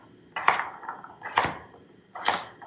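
Three evenly spaced knife chops through sweet potato on a cutting board, each a sharp woody thunk with a short ring, close and fairly loud, with no talking.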